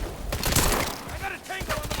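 Gunfire in the video game Call of Duty Advanced Warfare, rapid bursts of shots and crackling fire, close and loud, mixed with game voice chatter.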